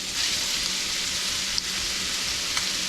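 Onion, carrots and celery sizzling in a hot skillet for a sausage and black-eyed pea stew, a steady close frying hiss with small crackles and faint stirring clicks.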